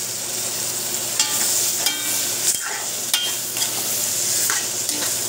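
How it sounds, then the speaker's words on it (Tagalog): Pork meat hits a hot pan of sautéed onion and garlic, giving a steady close sizzle with occasional scraping stirs and clinks of a utensil against the pan. "So, ilagay na natin yung karne."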